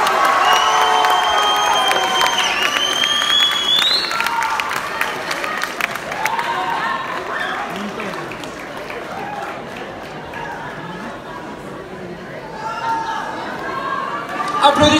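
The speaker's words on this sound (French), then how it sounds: "Applaudissements." A crowd at a Miss Lorraine beauty pageant bursts into loud applause and cheering, with shrill whoops and shouts over continuous clapping that eases slightly mid-way and swells again at the end.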